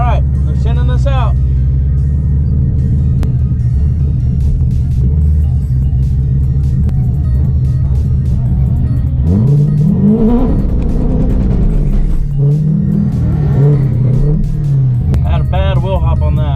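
A Corvette launches down a quarter-mile drag strip at a Charlotte, NC street car takeover, its loud engine rumbling and revving up in rising surges from inside the car, while people talk over it.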